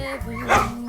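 A big dog at an animal refuge gives a short whimpering bark-like vocalization, close and fairly loud, with human voice sounds mixed in around it.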